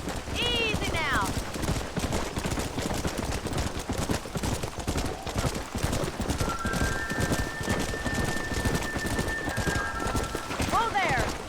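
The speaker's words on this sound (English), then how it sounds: "It's gonna be hard shouting over this storm." A heavy storm in the Red Dead Redemption video game roars with dense rain and wind while horses' hooves clop through a herd drive, with whistles and voices calling over the din.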